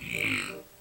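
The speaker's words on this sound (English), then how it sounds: "The polite burp." A short, soft burp, low and brief, fading out quickly.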